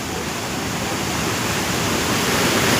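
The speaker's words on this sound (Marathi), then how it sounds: "हे बघा मित्रांनो कसा आहे धबधबा" Monsoon waterfall at Malshej Ghat, a loud, dense, continuous roar of falling water heard close and steady with no voices.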